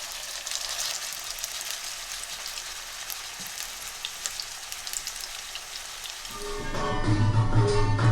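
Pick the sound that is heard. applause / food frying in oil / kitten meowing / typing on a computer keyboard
food frying in oil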